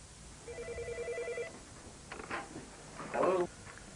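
An electronic telephone rings in two clear bursts of warbling tones, followed by brief, faint speech-like sounds, in an indoor setting.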